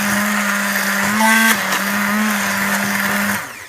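A blender whirs steadily and loudly up close while mixing protein ice cream, its pitch rising briefly, dipping, then holding before it winds down at the end.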